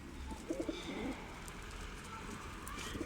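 Pigeons, including an injured white one, coo softly in a few low murmuring phrases over steady faint background noise.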